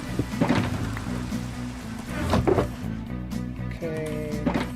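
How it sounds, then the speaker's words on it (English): Rain in the video game Minecraft falls as a continuous soft hiss, partly masked by background music with steady low tones and a few sharper game clicks; no voice is heard. "Now I can turn off the rain by going to sleep."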